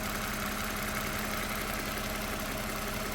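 A 2009 Toyota RAV4 with an ignition coil fault idles steadily at close range, a continuous engine drone with an uneven, slightly rough pulse and no speech.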